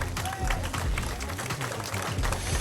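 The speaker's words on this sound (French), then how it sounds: "Je voudrais qu'on les applaudisse" Audience applause at a dance hall gathering, steady clapping mixed with crowd murmur and low rumble, moderately loud throughout the short stretch.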